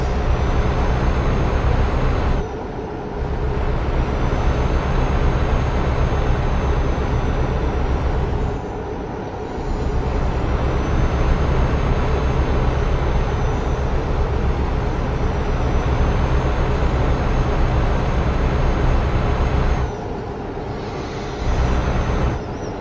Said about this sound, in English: the sound of the engine is drowning my voice out as I speak.